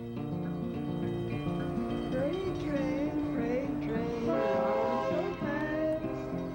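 A northbound freight train passes with its horn sounding in long, sustained, shifting tones over a low rumbling of rail cars, fairly close and loud throughout.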